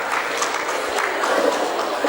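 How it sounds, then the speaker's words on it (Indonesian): Steady applause from an audience at a women's creative event in Indonesia, a dense continuous patter of many hands with a faint crowd murmur, held at an even level throughout. "Boleh kita kasih tepuk tangan?"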